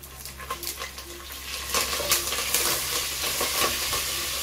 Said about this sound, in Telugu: బీ కేర్ఫుల్, కరేపాకు వేసిన వెంటనే ఫ్లాటర్ అవుతుంది